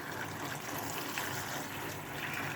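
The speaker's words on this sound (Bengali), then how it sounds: "সবজিগুলি সব ধুয়ে নিতেছি" Water runs steadily from a tap as vegetables for khichuri are rinsed, a constant broadband splashing trickle with no pauses.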